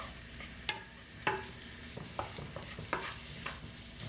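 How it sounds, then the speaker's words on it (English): Onions and garlic sauté in a hot pan, a constant sizzle with several sharp scrapes and taps from stirring, heard up close and without speech. "I'm just going to add my onions and the garlic. Saute these onions and garlic a little bit."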